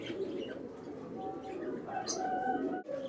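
Pigeons kept for sale coo softly in a low, continuous murmur, with a faint chirp or two and a brief flutter near the end.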